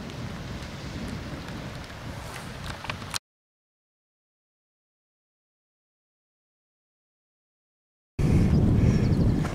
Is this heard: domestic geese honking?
no